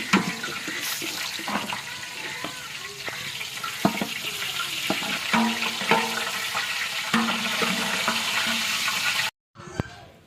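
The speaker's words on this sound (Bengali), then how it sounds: "মুরগি খুব ভালোভাবে উল্টাপাল্টা করে ভেজে নেওয়া হচ্ছে।" Chicken pieces frying in oil in a large pot as a cook turns them, a dense continuous sizzle with scattered scraping knocks, close and loud, cutting off briefly near the end.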